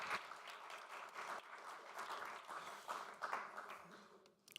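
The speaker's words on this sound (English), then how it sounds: "The applause was dedicated to the speakers, not to me, I am afraid" Conference audience at a networking event applauds the speakers, a dense, steady wash of many hands clapping at moderate distance that thins out and fades near the end.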